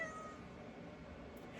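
A pet cat meows, a soft, faint cry that is followed by a quiet, even background hiss with no talking.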